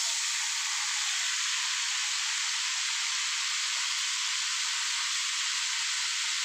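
Chopped cucumber hits frying onions in a pan, giving a steady, bright sizzle that holds evenly throughout with no voices over it.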